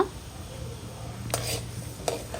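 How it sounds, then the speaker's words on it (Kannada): Chana dal and urad dal frying in a pan over low flame, a quiet hiss with a couple of brief scraping stirs of a spoon against the pan, close and without talk. "ಇದೆಲ್ಲ ಲೈಟ್ ಬ್ರೌನ್ ಬರೋ ತನಕ ಫ್ರೈ ಮಾಡ್ಕೋತಾ ಇದ್ದೀನಿ"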